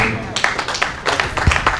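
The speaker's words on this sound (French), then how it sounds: "Sous vos applaudissements, bien sûr." An audience claps for a slam poetry performance at a book dedication ceremony on a university campus. The bursts are scattered and uneven, mixed with voices and room noise.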